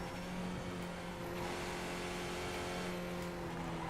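A race car engine in the iRacing simulator, steady and fairly faint, holding a sustained droning tone with a slight shift in pitch as it comes down a gear.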